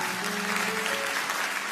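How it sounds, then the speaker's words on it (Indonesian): Steady applause from a church congregation, continuous and fairly loud throughout. "Kasih tepuk tangan dulu buat Tuhan."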